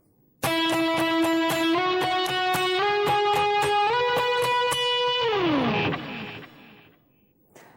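A loud, close electric guitar with effects plays the opening phrase of a song's solo, repeated picked notes climbing in steps through bends before a long downward slide that fades out.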